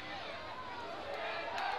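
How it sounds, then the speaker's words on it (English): A football crowd roars steadily at a Chattanooga FC match against Cal United, a dense, distant wash of cheering that swells toward the end. "Everybody in the crowd is willing them on."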